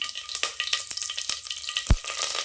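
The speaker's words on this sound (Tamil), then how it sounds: "எண்ணெய் சேர்த்துக்கலாம் கடுகு உளுத்தம் பருப்பு சேர்த்துக்கலாம் கருவேப்பிலை போட்டுக்கலாம்" Mustard seeds, urad dal and curry leaves crackle and sizzle in hot oil in a pot, a busy close spattering with sharp pops and one louder burst near the end.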